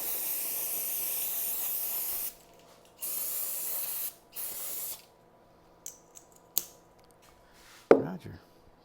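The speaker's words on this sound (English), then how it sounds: "I guess I better hose this out." A hose sprays water hard to clean out a Dana 30 axle housing during a limited-slip and regearing job, in several loud sustained hissing bursts with short pauses between them, followed by a few clanks and thumps.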